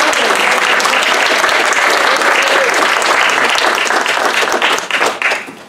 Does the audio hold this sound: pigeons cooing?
no